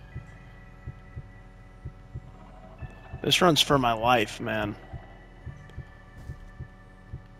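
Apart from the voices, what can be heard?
heartbeat sensor minigame heartbeat in Roblox Doors video game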